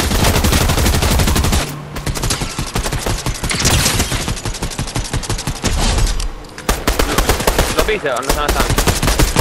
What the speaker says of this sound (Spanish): están disparando, esos sí son enemigos